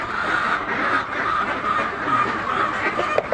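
Pet ducks at feeding time making a dense, continuous chorus of nasal quacking, close and fairly loud, with no pauses and no one talking.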